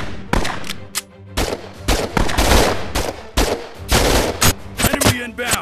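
Rapid bursts of gunfire in the VR shooter Operation Serpens, loud sharp automatic shots in several clusters with short gaps, close and dominant, with no voices over it.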